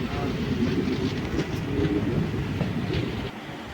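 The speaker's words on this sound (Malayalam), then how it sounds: "നമ്മുടെ ട്രെയിൻ ഇപ്പോൾ ദേ ഹരിപ്പാടും കഴിഞ്ഞ് വരുന്നുണ്ട്." Guruvayur Intercity Express (16342) running on rails between Haripad and Ambalappuzha in Kerala, a steady close rumble of wheels with rhythmic clickety-clack throughout, easing slightly near the end.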